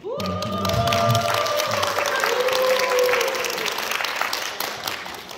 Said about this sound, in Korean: 박수 쳐드립니다.